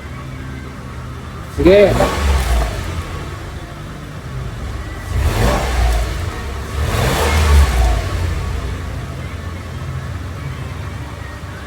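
A Mitsubishi Mirage engine flooded in a flood cranking and catching on its first start, then revving in a few rough surges amid sputtering, with a voice briefly speaking.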